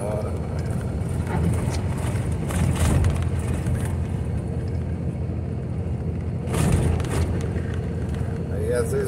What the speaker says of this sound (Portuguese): Caminhão de lenha descendo até as horas.